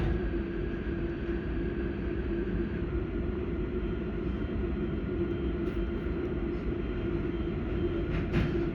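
Auckland Transport AM class electric train departing Green Lane station in New Zealand, a steady loud interior rumble and drone of the moving carriage with faint squeaks and clicks near the end.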